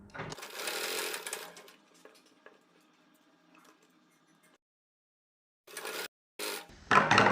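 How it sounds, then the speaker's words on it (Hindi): A sewing machine stitches the sleeve onto a suit, its fast whirring run loud at the start and tapering off, then short renewed bursts of stitching after a silent gap. "अब हम सेम इसी तरीके से इसको सिलाई लगाकर पूरा कर देंगे"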